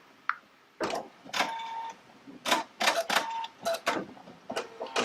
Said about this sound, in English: it's going to embroider the first two areas of the dragonfly